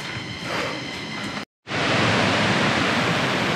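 A small waterfall at Sittong, Jogighat, heard close as a steady, loud, broadband rush of falling water, with one brief dropout partway through before the continuous roar resumes.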